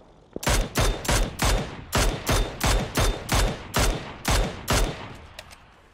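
Mini14 rifle gunfire in PUBG, about a dozen loud, evenly spaced shots fired in quick rhythm, close and sharp, with a brief quieter tail after the last shot.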